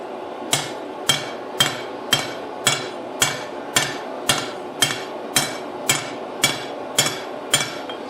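A hammer planishes a steel knife blade in a steady, even rhythm, about fourteen sharp ringing blows close by, with no talking.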